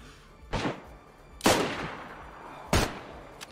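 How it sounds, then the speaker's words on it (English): AK rifle fire close by on an island in DayZ: three sharp, loud shots spaced about a second apart, each with a trailing echo, alone with no talk. "Someone just got shot with an AK very, very close."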